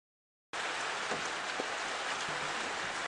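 Steady rain patters on a surface during an early-morning safari drive at Djuma Game Reserve, a dense continuous hiss starting abruptly after a half-second of silence with a few louder drops.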